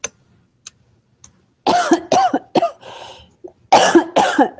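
A woman with a sore throat coughs several times in loud, close bursts, a few small sounds before them, during a group lesson meeting.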